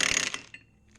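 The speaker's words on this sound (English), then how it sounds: "got the trusty DeWalt impact wrench" DeWalt impact wrench with a homemade holding tool loosening the clutch basket nut on a Kawasaki KLR 650 engine, heard as one brief, loud, harsh rattling burst that cuts off quickly, followed by a faint clink.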